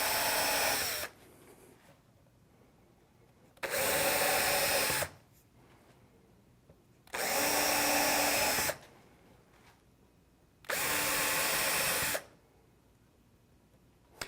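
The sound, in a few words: power drill drilling screw holes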